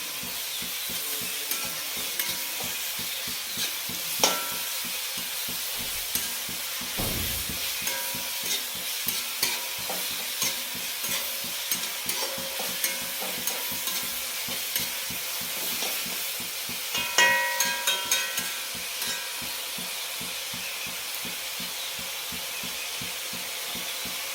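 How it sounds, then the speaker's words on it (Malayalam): Onions sizzling in oil in a pan for beef vindaloo, a steady frying hiss with repeated scraping and clacking of a spoon stirring through them, close and without talk. "ഇപ്പോൾ സവാള നല്ലോണം വഴന്ന് ഈ ഒരു പരുവം കണ്ടോ"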